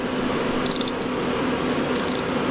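Two quick bursts of rapid ratchet clicks from a socket ratchet tightening an injector bolt on a Fordson Major diesel tractor, close up over a steady broadband hum.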